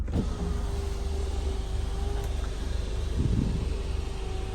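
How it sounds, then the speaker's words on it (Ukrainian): Electric sunroof on a Renault Koleos 2.0 dCi 4x4 sliding open, a steady whirring motor hum inside the car cabin with a couple of soft clunks, quiet and continuous. "Ось так відкривається люк."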